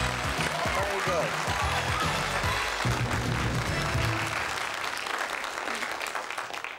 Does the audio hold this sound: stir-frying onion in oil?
no